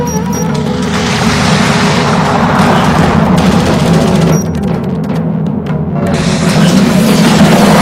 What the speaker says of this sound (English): Strike fighter taking fire.